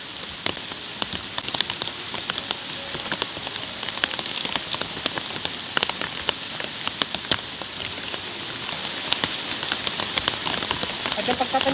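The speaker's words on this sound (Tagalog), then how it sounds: "Sa ulan guys." Steady rain falls with a dense patter of drops striking a surface, a continuous hiss punctuated by sharper individual taps throughout.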